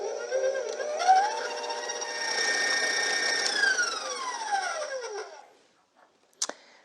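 An electric mixer blends cardamom into vinarterta dough, its motor whining up in pitch, holding steady, then winding down over about five seconds, followed by silence and a brief sharp clack nearby.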